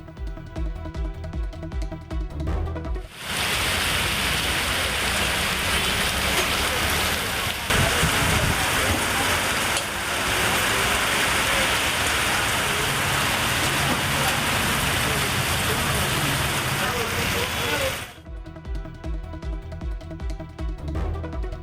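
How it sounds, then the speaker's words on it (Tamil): A sudden heavy downpour in the Tiruvallur district pours down as a dense, steady roar of rain. It lasts about fifteen seconds, with music playing before and after it. "திருவள்ளூர் மாவட்டத்தின் பல்வேறு பகுதிகளில் நேற்று மாலையில் திடீரென கனமழை வெளுத்து வாங்கியது"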